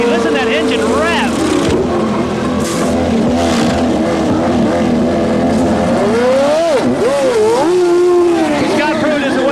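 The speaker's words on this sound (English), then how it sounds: "Listen to that engine rev." A 1991 CART Indy car at Mid-Ohio revs hard as it leaves the pits after a four-tire stop, its loud engine note rising and swooping under steady commentary and crowd noise.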